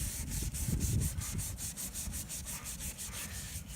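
A car headlight lens is hand-sanded in straight up-and-down strokes, giving a close, steady, rhythmic rasping scrub that continues without pause and with no talking.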